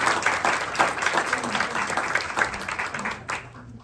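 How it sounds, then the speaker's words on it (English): Applause from an audience at a Tax Day economic briefing for Senator Dick Durbin, steady clapping that runs for several seconds then fades at the end, with faint voices underneath. "Let's give him a round of applause"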